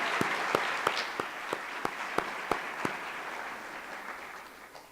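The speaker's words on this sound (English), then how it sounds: "how about one last big round of applause for our outstanding staff awardees." A college staff meeting audience applauds outstanding staff award winners, a steady patter of clapping with a few sharp individual claps standing out early, fading gradually toward the end.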